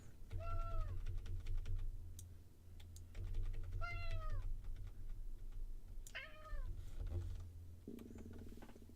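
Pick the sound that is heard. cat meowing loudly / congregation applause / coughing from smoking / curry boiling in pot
cat meowing loudly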